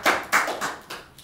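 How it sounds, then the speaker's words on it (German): Brief applause for a poet from a small audience at an open song stage, a few hands clapping in uneven bursts that quickly fade. "Ein kleiner Applaus für Detlef vielleicht"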